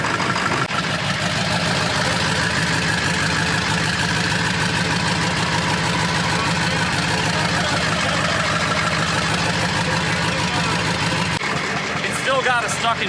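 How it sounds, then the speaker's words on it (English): A 1999 Ford F250 with a 7.3 diesel idles roughly with an exhaust leak, a steady loud rattling chug that runs throughout, with a voice talking over it. "It's a pretty good exhaust leak and all that too, so this will not be one of your nicer, quieter videos."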